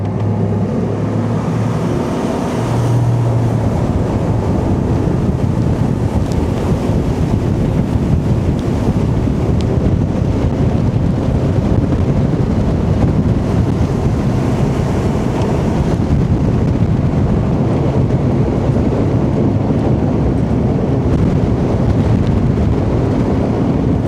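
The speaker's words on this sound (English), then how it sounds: "It's windy out here." Strong wind buffeting the microphone on a bass boat running across a lake, a loud continuous roar mixed with engine and water noise throughout.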